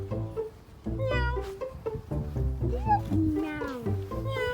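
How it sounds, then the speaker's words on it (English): A cat meows repeatedly, with several drawn-out, rising and falling cries close by, while a person nearby also says "meow" back to it and talks between the calls. "Meow."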